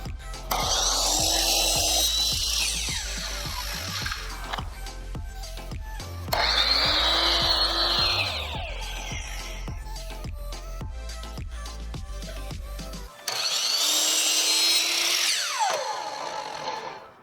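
A power saw cuts angles into crown molding: three loud bursts of spinning blade biting through wood, each rising then winding down, with a mechanical ticking rhythm underneath and short quiet gaps between cuts.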